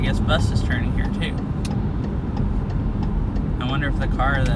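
Car engine and road rumble while driving and turning on a snowy road, a steady low drone throughout, with a person talking over it.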